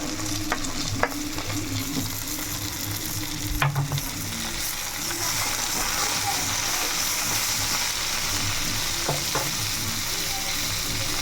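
Gongura leaves and tomato pieces fry in a pan with a loud, even sizzle, while stirring adds a few sharp scrapes and knocks early on before the hiss settles into a steady roar.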